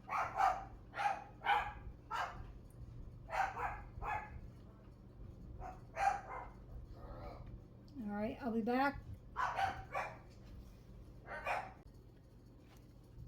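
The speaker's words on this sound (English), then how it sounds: "Sorry about the dogs." Dogs bark in short, sharp bursts nearby, some yips and whines mixed in, while a person speaks briefly between the barks.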